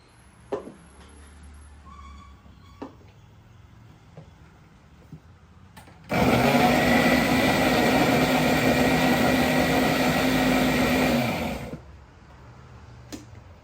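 An electric blender purees ripe, juicy mango pulp in a steady, loud whir for about five seconds, starting and stopping abruptly, with light clicks and handling knocks before and after.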